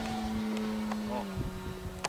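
A Super Tiger outboard motor drones steadily with a sustained tonal whine, heard close, with small splashes and bumps toward the end.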